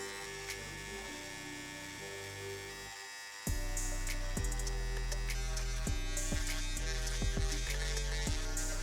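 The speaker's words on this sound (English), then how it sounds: "then just shave out everything as well with my electric shaver" An electric shaver buzzes steadily, then switches to a louder, harsher whine as it shaves a beard, the motor pitch shifting with each stroke, close up and alone.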